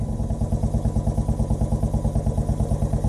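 A 2017 Royal motorcycle engine idles while warming up, holding a steady, loud, pulsing low thump that repeats evenly and sits close by, with no talk over it.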